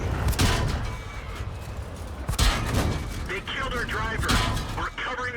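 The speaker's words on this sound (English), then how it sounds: "Now I can unload my full 5 shots into him" Rapid volley of cannon shots from a KV-1SA auto-reloading tank in a tank battle video game, several loud booming bursts in quick succession over continuous engine and battle noise.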